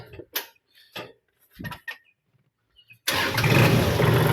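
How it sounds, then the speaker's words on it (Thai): A used Kubota L3608 tractor's diesel engine cranks and fires up after some light handling clicks, then settles into a loud, steady running rumble close by. "ดี๋ยวผมจะพาทุกคนลองสตาร์ทดู"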